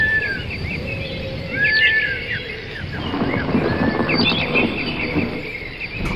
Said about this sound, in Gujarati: પક્ષીઓનો કલરવ થવા લાગ્યો.